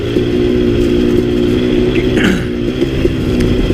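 A KTM 250 XC dirt bike engine runs close and loud while being ridden, a steady buzzing two-stroke drone with small throttle changes and a brief pitch swoop midway.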